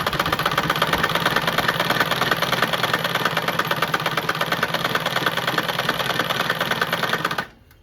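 A household sewing machine stitches torn clothes in a fast, even, rapid mechanical chatter, loud and close, running continuously for several seconds before stopping abruptly.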